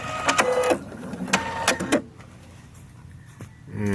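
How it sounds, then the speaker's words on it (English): The automatic scissor thread cutter on a Husqvarna Viking Sapphire 870Q sewing machine whirs and clicks in a few short motorized bursts, close up, then falls quiet before a brief final whir. "Scissor cutter."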